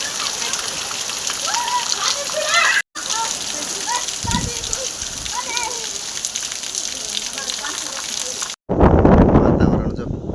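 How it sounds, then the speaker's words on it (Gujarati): Heavy, steady rain falls over waterlogged farm fields near hills, a continuous hiss with faint chirps, briefly cut twice and ending in a louder, harsher burst. "અત્યારે વરસાદ તો કાંઈ રહેવાનું નામ લેતો નથી"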